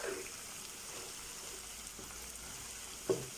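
Onions cooked down in oil and butter, stirred with a ladle in a pan, giving a faint low steady sizzle with a soft scrape or two and a brief clink of the ladle near the end.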